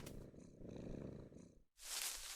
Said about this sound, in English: I can hear her purring.